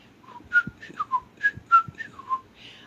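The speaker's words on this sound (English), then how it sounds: "I'm whistling today because I don't sing very well" A person whistles a short, bright bugle call of distinct notes in a lively rhythm, clear and close with nothing else around.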